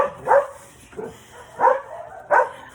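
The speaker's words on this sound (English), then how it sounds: "Sorry, my dog's barking." A pet dog barks indoors, four separate woofs spaced about half a second apart, close and fairly loud with no talk.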